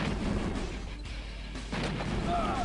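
Dull, muffled booms and distant firing from units in Command and Conquer: Red Alert, a steady low rumble of battle noise heard faintly, without clear individual shots.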